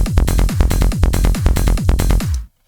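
A rolling tech trance bass synth pulses in quick, even repeated three-note groups, punchy and loud, then cuts off abruptly into silence.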